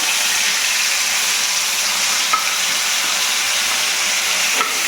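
Onion paste fries in oil left from frying fish, a loud, steady hissing sizzle that stays unbroken and close, with a couple of faint clicks and no talk.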